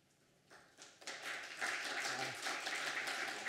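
Scattered claps start quietly, then swell into a sustained round of audience applause that stays at full strength to the end.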